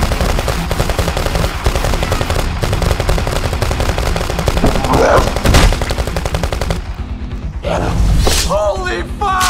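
Rapid bursts of gunfire crackle through a scene from an animated Countryballs zombie cartoon, loud repeated shots mixed with thuds, music and brief vocal gasps or shouts.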